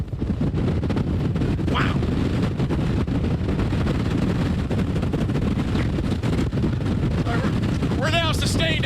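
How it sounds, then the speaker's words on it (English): A wind tunnel roaring at a sustained 111 mph hurricane-force speed, a loud constant broadband rush with heavy buffeting on the microphone, and a person briefly speaking over it. "We'll now step in front of the wind tunnel with wind speeds of 111."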